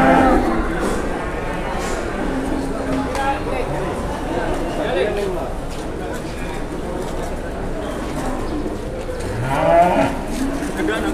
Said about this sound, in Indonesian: Sapi yang satu tahunnya hampir ngamuk ya.